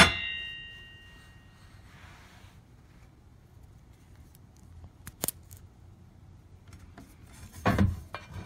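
A metal washer from an On Stage MSA6000 metal platform table drops, giving a bright metallic clang at the start followed by quiet, with a few sharp clicks and a louder knock near the end.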